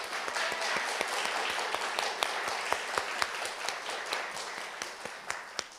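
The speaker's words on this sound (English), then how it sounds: "Let's give our VCU faculty and staff who are present a round of applause." Audience applause at a university accessibility achievement ceremony honoring VCU faculty and staff, a steady wash of many hands clapping with sharper individual claps standing out, sustained and fairly even throughout.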